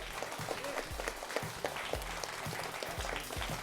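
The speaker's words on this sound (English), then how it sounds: "Round of applause for Batesville" An audience at a high school quiz bowl event applauds the winning Batesville team, a continuous round of clapping with occasional low thumps close by.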